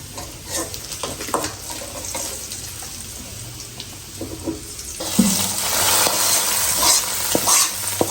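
Fish fries in a pan with cumin seeds, a continuous near sizzle with stirring and scraping that swells louder and brighter partway through.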